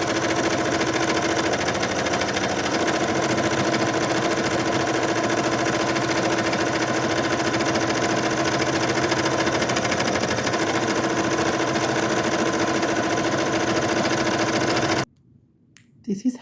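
Multi-needle embroidery machine stitching a sun design onto a hat, running in a loud, rapid, even mechanical chatter that goes on steadily for about fifteen seconds and then stops abruptly, followed by a few soft knocks.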